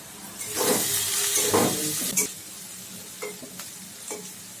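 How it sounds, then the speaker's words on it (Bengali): Vegetables and egg for chowmein fry in a hot pan, a loud close sizzle broken by several sharp stirring scrapes and clinks, fading to a quieter hiss with occasional utensil knocks. "সব কিছুই কিন্তু আমার বেশ ভাজা ভাজা হয়েছে।"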